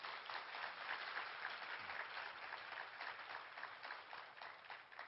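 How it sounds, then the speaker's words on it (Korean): Audience applause at a Korean conference talk concert after a song performance, a sustained steady clatter of many hands clapping throughout, fairly even in loudness and fading slightly at the end. "다시 한번 박수 부탁합니다"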